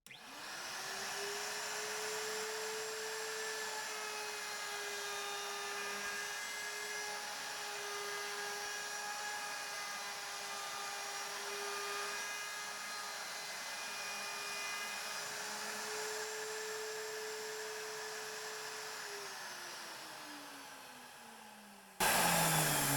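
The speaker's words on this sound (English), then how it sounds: "on the top, I want a nice round over, so I'm going to use the router for that" A router rounding over the top edge of a plastic carpentry board, a steady high motor whine held for about twenty seconds before spinning down, close and even with no talking.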